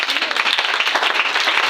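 A church congregation applauding, dense continuous clapping from many hands throughout, with voices mixed in.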